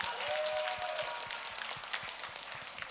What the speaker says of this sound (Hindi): आपके प्यार के लिए ज़ोरदार तालियां ज़रूर बजा दें